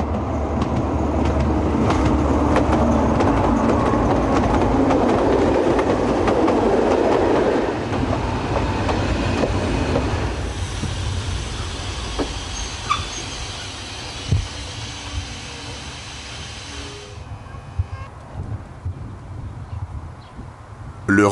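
A train on the Alps railway line at Veynes station rumbles loudly and steadily for several seconds, then fades as it passes, leaving quieter station ambience with a few scattered clanks and knocks.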